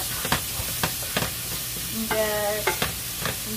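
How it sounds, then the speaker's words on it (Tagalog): Seasoning mix stirred in a sizzling skillet pan for burritos, a steady hiss broken by rhythmic scraping strokes of a utensil, close up, with a brief squeaky tone midway and no talking. "So just only mix it because it's a seasoning mix."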